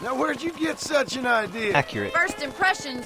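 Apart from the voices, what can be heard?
None of the usual background noises is heard.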